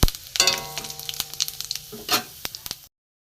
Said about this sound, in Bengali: এখানে গোটা জিরে দিয়ে দিলাম ফোড়নে।